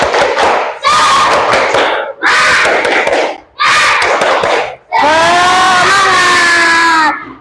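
A class of students claps and chants together in loud rhythmic bursts, four short shouted phrases with sharp claps followed by a longer sustained group shout, energetic and close.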